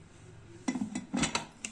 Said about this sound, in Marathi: कुकरमध्ये लावून याला झाकण लावून घेणार आहे